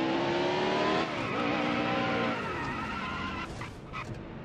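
Race car engine at Martinsville in NASCAR Heat Evolution drones loud and steady, pitch dipping and rising as the car brakes and accelerates through corners, with faint tire scrub near the end.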